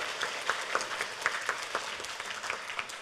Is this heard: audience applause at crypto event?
yes